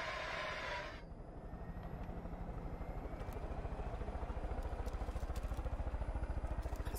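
Helicopter in the video game Far Cry 5, a steady rotor drone with rapid rhythmic chopping that builds and stays loud throughout, heard alone with no talking.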